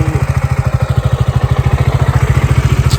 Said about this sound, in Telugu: ఇట్లా ఛార్జింగ్ పాయింట్ పెట్టి బైక్ ఆన్ చేసి ఛార్జింగ్ పెడుతున్నాం